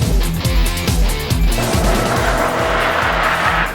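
Car on AirLift Performance air suspension cornering hard on a skid pad, loud steady engine roar with rhythmic pulsing and rising tire squeal throughout, no voices.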